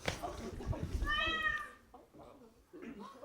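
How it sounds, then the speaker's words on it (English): A cat meows with a drawn-out, wavering cry in the middle of the clip, with speech around it. "Was that a cat? Birds don't meow."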